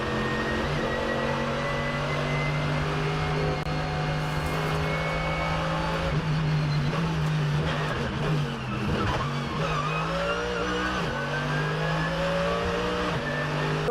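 Race cars at the Nurburgring in 2023 roar past with sustained engine drones, rising and falling pitch as they accelerate and shift, with tire squeal and a car skidding off onto dust; loud and continuous, no talk.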